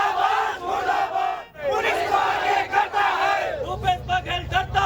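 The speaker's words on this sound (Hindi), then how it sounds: "किस तरीके से वहां नारेबाजी हुई देख सकते हैं" A protest crowd chants slogans in loud unison against the Jharkhand police after the detention of a BJP candidate, voices rising and falling in steady rhythmic bursts with no pauses.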